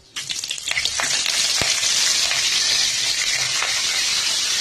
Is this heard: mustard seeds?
yes